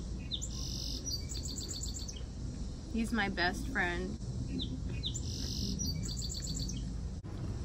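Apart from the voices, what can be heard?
bird chirping on a deck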